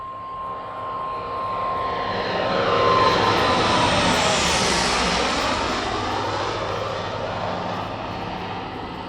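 A Corsair fighter plane's piston engine roars in a loud, steady drone that swells as it passes close by, then holds strong before easing slightly, with no voices.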